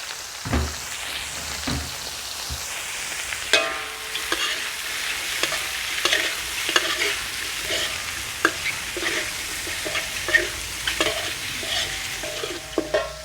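Squid and garlic sizzle and fry steadily in a pan, loud and close, with repeated scrapes and clicks of a spatula stirring throughout and no voices.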